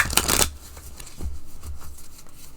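A burst of cards being shuffled during a card reading, a dense riffle for about half a second, then quieter card handling and shuffling close by, with no talking.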